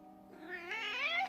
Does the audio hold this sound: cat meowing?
yes